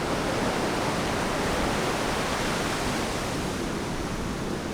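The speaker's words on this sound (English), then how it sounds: "The waves are definitely pulling them south." Ocean surf at a South Florida beach, a steady, dense roar of breaking waves and wash with no pauses, loud and close, no voices.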